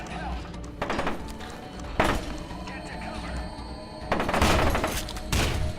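Several loud shotgun blasts in F.E.A.R. 2, spaced irregularly with heavy bursts, while people talk throughout.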